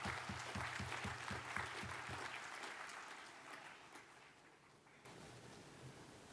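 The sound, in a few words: applause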